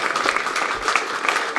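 Applause from the crowd at a lower-league football match between Podlesianka Katowice and Szombierki Bytom as the captain leaves the pitch, a short burst of dense clapping, fairly loud and continuous.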